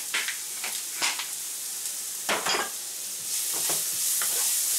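Ground cumin and spices stirred in a hot frying pan, a steady sizzle with intermittent scraping strokes of the utensil, close and continuous, the frying growing slightly louder toward the end.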